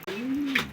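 A Taiwan pigeon gives one short, soft coo close by, a single smooth rising-and-falling note under a second, with no talk over it.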